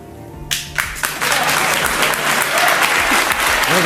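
Studio audience at a live comedy talk show bursts into loud, sustained applause with scattered cheers, building quickly after a quiet start and continuing steadily to the end.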